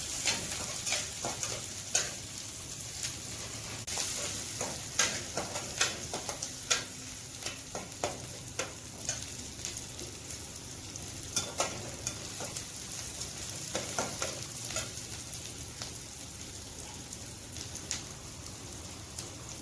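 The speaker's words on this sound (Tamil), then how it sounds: "வெங்காயத்தை நல்லா வதக்கணும். வெங்காயம் வதங்கும் போது கொஞ்சம் கருவேப்பிலை போட்டுக்கோங்க." Onions sauté in a pan for a vegetable kurma, a soft steady sizzle broken by frequent ladle stirs and scrapes, close and fairly quiet, with no voices.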